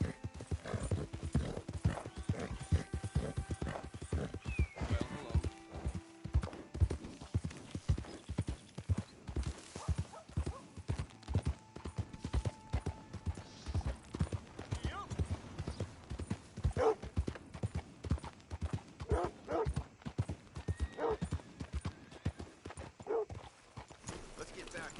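Horse hooves clip-clop at a gallop in a video game, a continuous close rhythmic pounding with a brief whinny, running under someone talking and other game voices.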